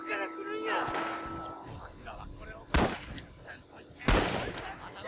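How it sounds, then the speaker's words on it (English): Machine gun and rifle fire in the WWII shooter Red Orchestra 2, set at Guadalcanal: sharp, loud bursts at about one, 2.8 and 4.1 seconds over a steady battle rumble and distant shots. "Oh my god, just getting torn up by machine gun fire there."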